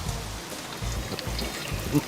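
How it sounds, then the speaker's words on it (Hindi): Heavy monsoon rain falls steadily in an even, dense wash of noise with soft low rumbles pulsing underneath, close and continuous across the moment. "यहाँ इतनी बरसात हो रही है"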